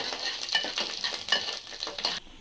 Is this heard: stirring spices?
yes